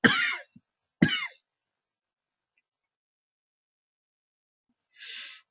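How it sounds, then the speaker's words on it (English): Two sharp coughs from one person come in quick succession, then a long silence and a softer breathy cough or throat-clear near the end, all close and alone. "I'm sorry for those coughs."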